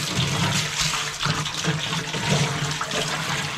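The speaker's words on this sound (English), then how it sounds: "We're gonna go ahead and get some water in this pot and get it to boiling." Water runs steadily from a hose into a large 80-quart crawfish boil pot, a continuous rushing splash with a low drumming resonance and no talk.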